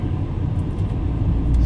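Inside a BMW cruising on a 100-degree day with the air conditioning running, a steady low road rumble and engine drone fills the cabin, loud and continuous with a faint airy hiss on top.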